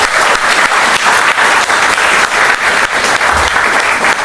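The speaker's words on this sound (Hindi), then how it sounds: "एक बार जोरदार तालियां होनी चाहिए।" Dense, loud applause from a seminar audience fills the room for the whole stretch, a steady roar of many hands with slight pulses and no voices over it.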